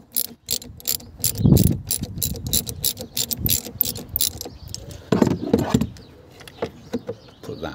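Ratchet socket wrench loosening the clamp that holds the 12V battery on a Kia EV6, a rapid run of close, loud metallic clicks in uneven bursts, with no talking.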